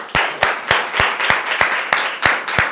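A church congregation claps together in worship, with sharp, evenly spaced claps repeating about three times a second in a loud, steady rhythm and no talking over them.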